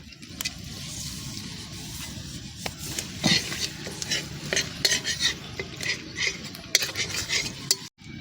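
Two bay leaves, three dried chillies, cinnamon and cardamom fry in hot oil for a mung dal, a steady sizzle under repeated clinks and scrapes of a stirring utensil against the pan.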